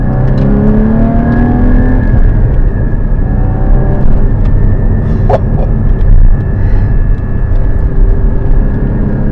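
A Porsche Cayman GT4 (981) engine drones loudly and steadily, its pitch sliding upward in gradual revs, with a broad rumble of road and wind noise throughout.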